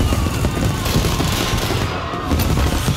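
Rapid bursts of pistol gunfire in the video game Mafia: Definitive Edition, loud and close, with shots running together into a dense, continuous clatter and no talking.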